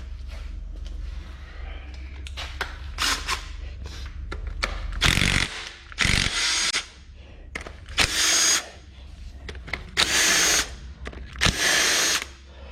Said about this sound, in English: let's get a 1/2 inch, and let's get this intake manifold off.